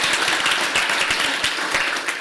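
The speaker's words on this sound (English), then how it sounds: "Can we give a round of applause for Rob for some wonderful moderation here t" Sustained audience applause at a Calgary mayoral debate, a dense wash of many hands clapping steadily and fairly loudly throughout.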